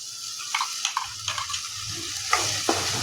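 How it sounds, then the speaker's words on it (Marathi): Kaju curry gravy with red chilli powder, garam masala and turmeric fries in oil, a soft steady sizzle with repeated spoon scrapes and taps as it is stirred, close and without talk. "छान असं तेल सुटेपर्यंत तळून घेऊ."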